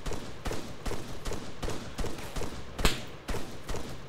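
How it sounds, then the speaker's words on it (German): Gunshots in the military shooter Arma 3, a steady series of about eight evenly spaced shots roughly half a second apart, moderately loud and close, with one sharper crack near the end. "Schüsse."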